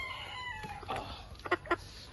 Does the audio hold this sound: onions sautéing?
no